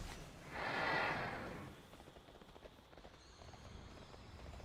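Faint, steady clip-clop of a mounted horse's hooves trotting in World of Warcraft, preceded by a soft breathy whoosh and continuing evenly under quiet game ambience.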